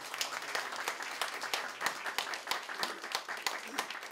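An audience applauds at an event for a multicultural children's library, with steady, dense clapping and some faint voices mixed in.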